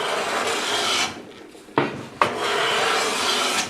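A high speed steel blade in a hand plane shaves across wood in long, close rasping strokes, pausing briefly in the middle before a couple of sharp catches and another sustained pass, with no voices.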